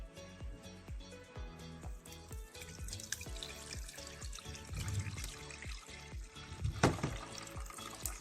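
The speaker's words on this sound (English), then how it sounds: "I squeeze out the juice from out of the coconut." Freshly grated coconut is squeezed by hand to press out its juice for a Jamaican conch soup, giving a quiet, wet trickling and dripping with soft squishy handling noises throughout.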